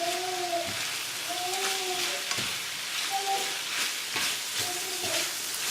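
Eggs sizzling over low heat in a pan for kielbasa fried rice, a steady bright frying hiss with repeated scraping strokes as they are stirred and broken up, close and continuous.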